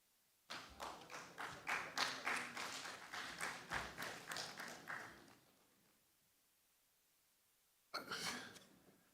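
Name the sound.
clapping at a conference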